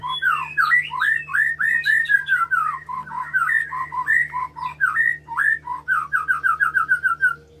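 A molting white-rumped shama sings a long, varied song of rich whistles and rapid chirps, loud and close, with quick repeated notes toward the end.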